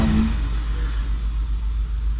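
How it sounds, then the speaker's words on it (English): A modified 49cc small engine revs steadily and loudly throughout, a continuous buzzing drone with a low rumble and no one speaking. "For those of you who are interested in a modified 49cc engine."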